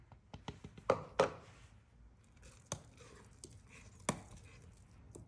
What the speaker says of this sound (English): I am going to stir my starter and we'll see what happens